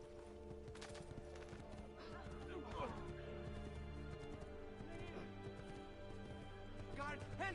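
Horse hooves clip-clop and a horse neighs in the Assassin's Creed II video game, with steady hoofbeats and a whinny blended into game ambience and overlapping speech.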